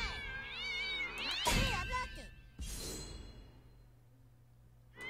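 Kittens in South Park: The Stick of Truth give loud, close meows and wailing cries with a whooshing swipe partway through, against a low steady game background.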